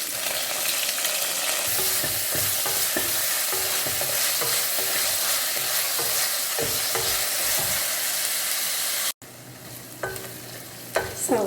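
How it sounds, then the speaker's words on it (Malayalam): Sliced onions tossed into hot oil with browned garlic and ginger for a roasted chicken curry, giving a steady close sizzle with repeated stirring scrapes, then a brief cut and a quieter sizzle with louder spoon knocks. "വെളുത്തുള്ളിയും ഇഞ്ചിയും മൂത്തിട്ടുണ്ട് ഇനി അരിഞ്ഞു വെച്ചേക്കുന്ന സവോള ചേർത്ത് കൊടുക്കാം"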